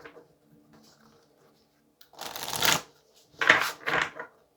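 A deck of tarot cards being shuffled by hand, two close riffling bursts with a short pause between them after a quiet stretch of light handling.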